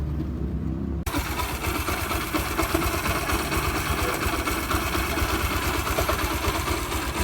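A 2005 Yamaha YBR 125 motorcycle with engine noise idles steadily and loudly, a continuous close mechanical rumble with no speech over it.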